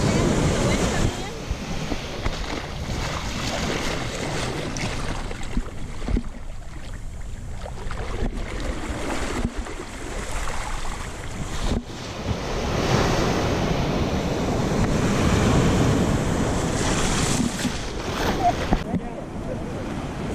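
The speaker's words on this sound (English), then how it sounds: "here at the beach" Ocean surf rolls steadily onto Cabbage Beach in the Bahamas, a continuous wash of breaking waves roughened by gusty wind buffeting the microphone, with brief voices faintly in the mix.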